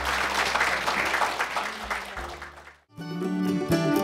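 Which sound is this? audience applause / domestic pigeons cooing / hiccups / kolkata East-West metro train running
audience applause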